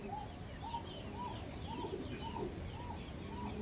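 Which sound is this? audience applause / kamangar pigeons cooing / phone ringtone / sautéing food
kamangar pigeons cooing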